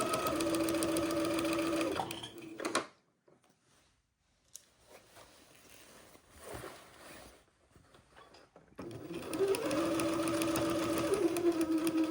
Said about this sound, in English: And then we'll sew back up about 3/4 of an inch past where we started.